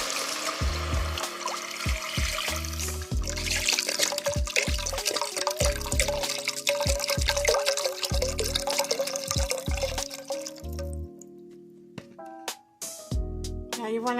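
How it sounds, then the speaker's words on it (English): Four cups of vegetable broth poured into a pot with sauteed garlic for collard greens, a continuous splashing liquid flow with gurgling and dripping that tapers into scattered drips at the end. "Now you can add in your 4 cups of vegetable broth."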